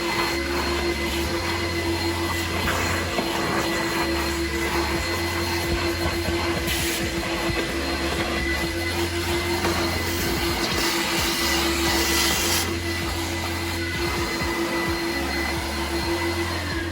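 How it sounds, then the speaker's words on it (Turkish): A loud vacuum machine cleaning a Volkswagen Polo's dirty floor at a car detailing shop runs continuously with a steady drone and a pulsing low hum, close and unbroken throughout. "bu süpürge makinesi değilmiş. Vakum makinesiymiş."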